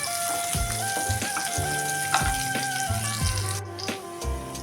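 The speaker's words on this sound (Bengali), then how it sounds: "খুব ভালো করে পেঁয়াজটা ভেজে নিতে হবে," Chopped onion frying in hot oil in a pan until browned, for a Bengali shrimp-and-water-lily dish: a steady, close crackling sizzle throughout with no voices, over a faint tonal background hum.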